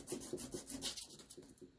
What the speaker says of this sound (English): there's a washer here, so we'll give him a quick rub.